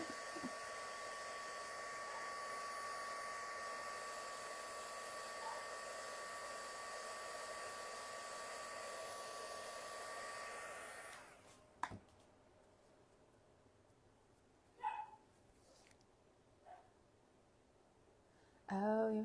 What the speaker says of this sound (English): Okay, I guess I'll have to use the heat tool. Heat it up.